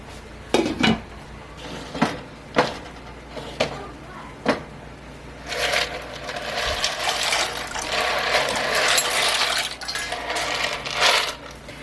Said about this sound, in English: I'm going to go ahead and cover it just to hold some of that liquid in